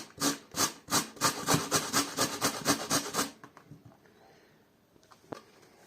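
A Krauff grater with a teak handle grates on its finest side: about a dozen quick, even rasping strokes for roughly three seconds, then it stops, leaving near quiet and one small click.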